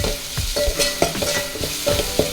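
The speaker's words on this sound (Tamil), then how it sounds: "நல்லா டாஸ் பண்ணிக்கலாம்" Onions tossed in a frying pan with asafoetida, coriander, cumin and pepper powder for ghee dal sizzle up close, with quick, repeated scraping and clacking strokes of a spoon against the pan.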